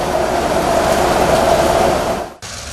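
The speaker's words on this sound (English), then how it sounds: "train with the engine that was damaged in the 2004 tsunami 19 years ago also began its journey towards Peralia this morning" Train pulled by an engine damaged in the 2004 tsunami, running toward Peraliya in Sri Lanka: a loud, continuous rolling rumble with a steady hum, cutting off abruptly near the end before quieter noise resumes.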